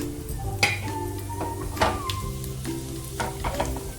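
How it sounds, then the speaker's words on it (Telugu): Cumin and mustard seeds crackling in hot oil alongside fried chana and urad dal for a tomato pickle, a close sizzle with scattered pops and light metal clinks from stirring. "ఇప్పుడు 1 స్పూన్ జీలకర్ర, 1 స్పూన్ ఆవాలు వేసుకోవాలి."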